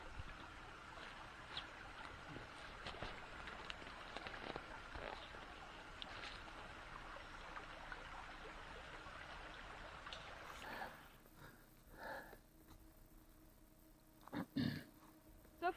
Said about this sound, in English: We have a little creek over here.